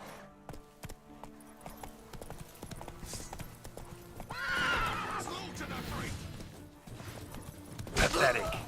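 A horse in The Witcher 3 game gallops with rapid close clip-clop hoofbeats, then neighs loudly twice, with a voice talking briefly over it.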